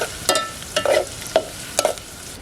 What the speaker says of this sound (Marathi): कांदा चांगला लालसर करून घेऊया